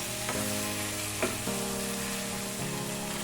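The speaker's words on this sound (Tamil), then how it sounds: "சிக்கன் சேர்த்து கொஞ்சம் நல்லா வதங்கட்டும்" Chicken sautés in a gravy pan with a steady soft sizzle and occasional stirring clinks, faint and continuous, with humming tonal background sound and no speech.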